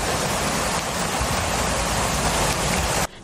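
Torrential rain falls on Taichung's Xinshe area in Taiwan during a severe downpour: a loud, continuous hiss of water hammering surfaces, unbroken until a brief cut at the very end.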